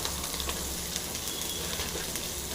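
Crushed black pepper, cumin, garlic and green chili fry in a pan for a rasam, giving a steady, close sizzle with faint crackles throughout.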